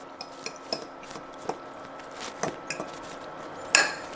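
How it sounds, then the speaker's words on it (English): Salsa stirred in a bowl after salt is added, a spoon clinking and tapping repeatedly against the bowl in an irregular rhythm, close up and fairly clear, with a louder clink near the end. "Let's mix it"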